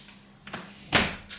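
Indoors in a holiday room in the old town of Rhodes, Greece, a door is pushed shut with a couple of soft knocks, then a firm thud, and a lighter knock after it, close by.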